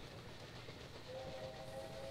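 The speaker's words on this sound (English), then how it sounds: "This is not a powerful train." A slow, struggling train hauls up a gradient in the Railway Empire video game, with a steady rumbling engine bed and a thin whistle-like tone joining partway through.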